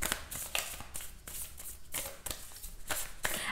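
Tarot cards are shuffled by hand in quick repeated riffles and slides, a close, crisp, papery flutter coming in short bursts with no talking.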